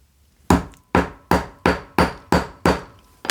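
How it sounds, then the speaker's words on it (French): A hammer strikes a setting tool over a metal rivet on a fabric bag, eight sharp, evenly spaced taps in a steady rhythm, close and loud with no talking. "Je prends mon petit instrument que je pose par-dessus et avec le marteau, je viens le fixer."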